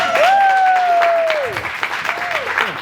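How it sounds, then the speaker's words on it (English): An audience applauds at a talk event, a dense wash of clapping with a long rising and falling whistle or whoop carried over it, then thinning slightly toward the end. "Everybody give Lucy a round of applause as well."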